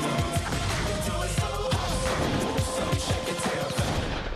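Dense, continuous gunfire with rapid overlapping shots and crashing impacts, loud and close throughout, with no talking.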